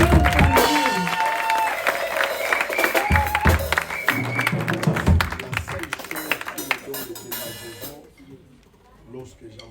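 Congregation at a church worship service clapping and applauding together, a dense sustained wash of claps mixed with music and singing, fading out near the end.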